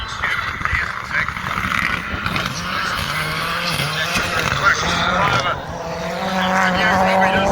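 Ford Fiesta AP4 M-Sport rally car on a gravel stage, its engine rising and falling through gear changes with skidding tyre noise, loud and sustained, with a voice talking over it.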